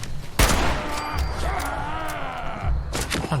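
A sharp gunshot lands a headshot in Fallout 76 on PC, followed by a rumbling, groaning game effect and a second thump near the end, with a faint voice beneath.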